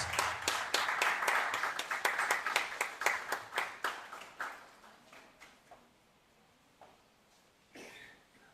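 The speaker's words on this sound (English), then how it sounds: "Let's welcome her with a round of applause" An audience at a youth democracy forum gives a round of applause for a speaker, rhythmic clapping that starts fairly loud and thins to a few scattered claps, with a cough near the end.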